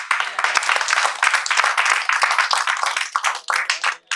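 An audience at a direct-selling training session claps in a lively, uneven burst of many hands that thins out briefly near the end.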